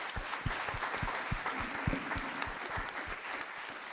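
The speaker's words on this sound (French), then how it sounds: "Applaudissements." A conference audience applauds after a climate and nature talk. The clapping is soft and somewhat distant, with individual hand claps standing out sharply over a steady patter that continues evenly.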